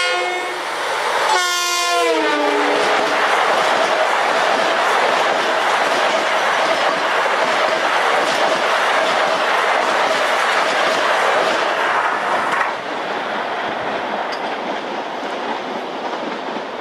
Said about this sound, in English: Westbound on the main line, number 2 track, doing the limit, 80 miles an hour